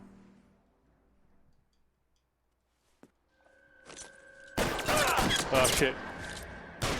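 Shotgun fire in the video game L.A. Noire comes as dense, loud blasts near the end, after a quiet stretch and a single sharp click. A man swears briefly at the start.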